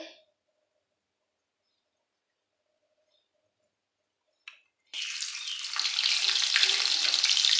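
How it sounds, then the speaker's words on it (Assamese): Fish frying in hot oil in a kadai: after a brief tap near 4.5 seconds, a loud, steady sizzle begins around 5 seconds and continues close and unbroken to the end, with no talking. "তেলখিনি অলপ মাছটো অলপ ফ্ৰাই কৰি লৈছে"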